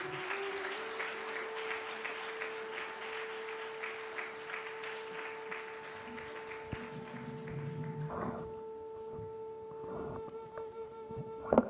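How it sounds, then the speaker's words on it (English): An audience at a book launch event applauding after a Rubik's Cube magic performance, moderate clapping that thins out and fades over several seconds, with a steady electronic tone running underneath and scattered taps near the end. "Let's have a big round of applause."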